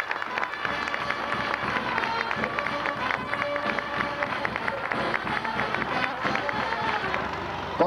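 A crowd applauds steadily at a 50th-anniversary celebration honoring pyrotechnicians, dense clapping and cheering that continues throughout at moderate loudness, with a brass diana fanfare and festive noise mixed in.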